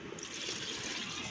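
Water pours steadily into a pan of beef pieces, making a continuous close splashing and trickling that fills the whole short stretch with no talk over it.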